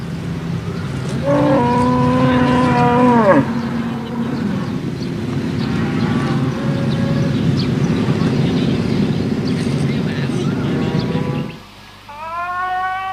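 Cattle low on a tropical dairy farm where grasses are tested, with two drawn-out, bending moos, one early and one near the end, over a steady rumbling background.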